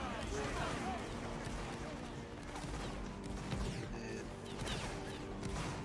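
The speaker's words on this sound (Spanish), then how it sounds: "Tiros, tiros, tiros." Dense musket volleys and crackling gunfire from a Napoleonic Wars battle game, continuous and distant-sounding, with a player shouting commands over the din.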